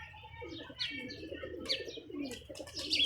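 Pigeons coo softly nearby as one flutters down to land, low throaty calls mixed with light chirps and a brief flap of wings, quiet and close.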